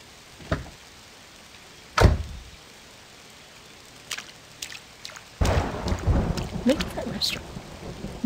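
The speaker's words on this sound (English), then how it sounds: "It's all rainy and yucky." Thunder cracks and rolls through a rainy night in the restaurant game Lake Front Restaurant, starting with a few scattered booms before steady rain sets in, dense and close, with more rumbles on top.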